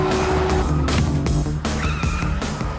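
A gang's car tears along in an Indian action movie chase, its engine roaring loud as the tires skid and squeal, with rhythmic heavy hits pulsing throughout.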